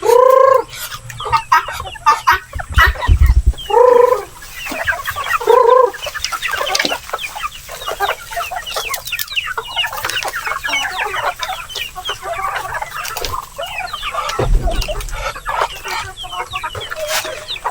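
Native chickens cluck and chatter steadily at feeding time on a farm, with a few louder rooster-like calls early and midway, close and continuous throughout.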